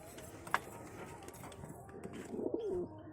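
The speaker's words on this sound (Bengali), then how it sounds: "এই কবুতর লফটের ভিতরে গিরিবাজ কবুতরের বাচ্চা আছে" Giribaz pigeons coo inside a pigeon loft where squabs are nesting, a soft rolling coo near the end over faint background noise, with a sharp brief tap earlier and no talking.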